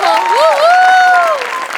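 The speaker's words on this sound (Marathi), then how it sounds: "त्याचं खूप कौतुक. त्याच्यासाठी खूप टाळ्या." A studio audience at a Marathi comedy show applauds the writer of a skit, sustained dense clapping with a wavering whistle-like tone riding over it for the whole stretch.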